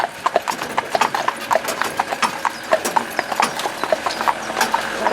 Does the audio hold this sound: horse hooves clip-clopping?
yes